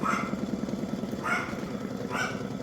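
A dog barks three times at a steady pace, each bark clear and moderately close over a continuous low mechanical hum.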